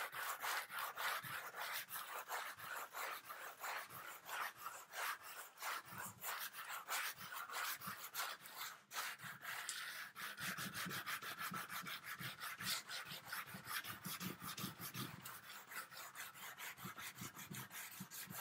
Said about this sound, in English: I'm on my 3rd sheet of sandpaper